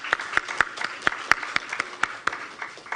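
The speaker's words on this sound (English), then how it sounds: "Let's give them another round of applause." Sparse applause at an education ministry news conference: individual claps land unevenly, about a dozen sharp, fairly close hits in three seconds, rather than a full crowd.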